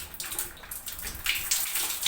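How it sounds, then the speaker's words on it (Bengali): Running water splashes steadily over an old metal tap being rinsed clean after scrubbing with hand wash, close and continuous with uneven gushing surges. "তারপর আমি পানি দিয়ে ধুয়ে ফেলবো।"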